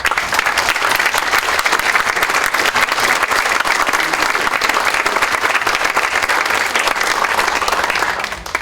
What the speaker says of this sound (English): Let's hear a warm round of applause